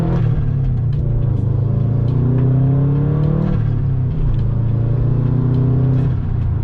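A Subaru WRX pulls hard from a standstill, its engine rumbling loud and close. The revs climb in repeated rising sweeps through the gear changes, a steady throaty drone that runs throughout with no talking over it.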